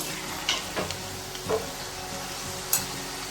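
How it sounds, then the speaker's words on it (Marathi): Salty shankarpali deep-frying in oil, a quiet continuous bubbling sizzle broken by a few soft knocks and scrapes of a spoon in the pan. "छान सर तळून घ्यायचा आहे थोडा लालसर कलर यायला लागलेला आहे"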